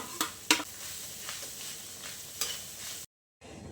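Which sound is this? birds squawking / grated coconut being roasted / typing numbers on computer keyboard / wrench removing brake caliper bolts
grated coconut being roasted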